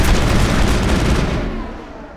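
Loud gunfire in Mass Effect aimed at Rachni eggs, a close, dense burst of shots and booms that tapers off toward the end.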